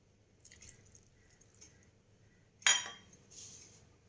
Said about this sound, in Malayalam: ഇതിലേക്ക് 2 ടേബിൾ സ്പൂൺ പാൽ കൂടെ ഒഴിച്ചിട്ട് നമുക്കതിനെ മിക്സ് ചെയ്യാം.